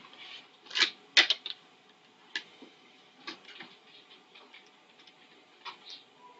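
Keys tap on a keyboard in short irregular bursts, a few sharper clicks early on followed by lighter scattered taps, close and otherwise quiet.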